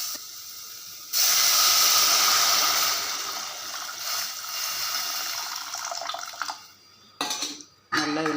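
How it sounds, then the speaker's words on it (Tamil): Tamarind water is poured into sautéed onions in a pan for rasam, giving a loud sizzling hiss that surges at once, fades slowly over several seconds, then breaks into short bursts near the end, with no talk. "இப்போ புளி தண்ணியை எடுத்து நம்ம ஊற்றிடலாம்."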